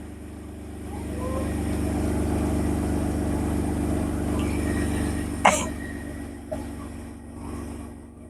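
An old, loud car idles with a low rumbling hum that slowly fades as it drives away, interrupted by a sharp cough-like noise and a smaller knock near the end.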